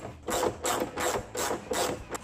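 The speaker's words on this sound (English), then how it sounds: "All right, so we've got the seat back bolted up nice and sturdy." A ratchet tightens the 1/2-inch nuts on the bolts of a TCMT King trunk seat backrest, giving four or five quick clicking bursts at an even rhythm, close up and fairly faint, with no talk.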